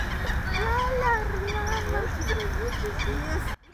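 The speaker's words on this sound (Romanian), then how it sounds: "printre care pescăruși, rațe sălbatice și lebede, își găsesc refugiul în capitală, pe lacul din Parcul Iore" Gulls, wild ducks and swans on a city park lake make a continuous din of honks, quacks and cries, many birds calling at once over steady background noise, cut off abruptly near the end.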